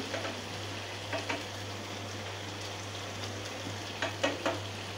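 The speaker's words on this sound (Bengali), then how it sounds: "এবার ধনিয়াটা একটু নেড়ে চেড়ে দিতেছি।" Egg curry with coriander leaves simmers and is stirred in a frying pan, a faint hissy sizzle over a steady low hum, with a few soft scrapes of the spoon near the end.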